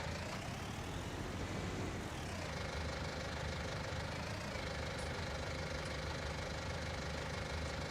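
A tractor engine in Farming Simulator 19 drones steadily at close range, a constant rough idle-like rumble with a slight pitch shift partway through, no voices over it.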